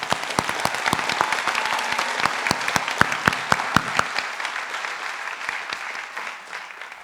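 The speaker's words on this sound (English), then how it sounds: "how about a round of applause from everyone in the house?" Applause from the audience at an LPN nursing class graduation ceremony, steady clapping with sharp individual claps standing out near the microphone, gradually thinning toward the end.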